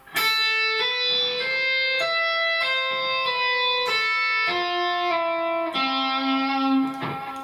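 Electric guitar runs a smooth legato scale downward, notes flowing one into the next with a sustained, slightly distorted tone, loud and close.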